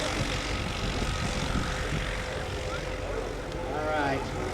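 Propeller airplane engines drone steadily as aircraft taxi out at the EAA AirVenture airshow in Oshkosh, a moderate hum with a rising whine near the end and people talking over it.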